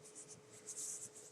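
A bone folder rubbing paper flat, short quiet scraping strokes in a quick back-and-forth rhythm, close and faint.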